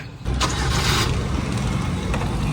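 A car rumbles steadily close by at night in Jamnagar, its engine noise continuous and fairly loud, with a brief hiss of passing air and no talk over it.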